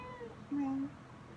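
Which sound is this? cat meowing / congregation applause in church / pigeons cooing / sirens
cat meowing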